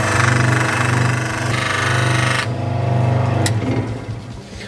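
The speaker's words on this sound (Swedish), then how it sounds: "vara väldigt försiktig när man sågar ut genom brädan där" Contour saw machine cutting through a wooden board, a loud, steady mechanical whine and buzz with a rough vibrating drone that shifts in tone partway through as the blade works the cut, with no talk.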